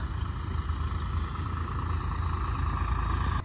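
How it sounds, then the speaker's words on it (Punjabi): A tractor with cutting blades mows grass on a village playground, giving a steady, loud engine drone with a rough, rumbling churn throughout and no talk. "ਇਹ ਟਰੈਕਟਰ ਦੇ ਵਿੱਚ ਜਿਹੜੀ ਪੱਤੀਆਂ ਘਾਹ ਵੱਢ ਰਹੀਆਂ ਨੇ"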